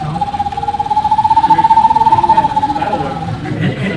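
A person imitating a screech owl's call, delivering a sustained, even trill that wavers rapidly for several seconds, loud and close, with room noise behind it.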